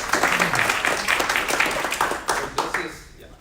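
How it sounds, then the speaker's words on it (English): An audience at a 1 Million Cups business community gathering gives a round of applause, a dense, close burst of many hands that tapers off toward the end. "I'll give them another round of applause."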